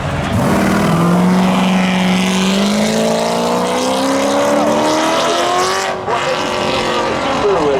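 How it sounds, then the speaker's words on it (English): Cars drag racing at a spectator drag show, a loud engine roar with rising pitch as they accelerate down the strip, sustained and close. "Daniel's taking that one over a pretty fast Corvette"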